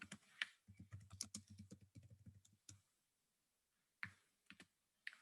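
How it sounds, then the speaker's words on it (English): Typing on a computer keyboard: a rapid run of close, crisp key clicks, a pause, then a few more scattered taps, all alone in a quiet room. "And let's type in another word for, let's go sneaky."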